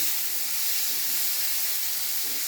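Onion, garlic, ginger and tomato sautéing in oil, heard as a continuous loud, even hiss of sizzling with no breaks.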